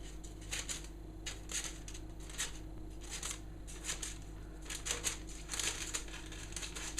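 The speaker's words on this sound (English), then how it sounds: "snip up to the circle with your scissors as you go round" Scissors snipping paper around a cake tin: faint, quick, irregular cuts and rustles repeated close by over a low steady hum.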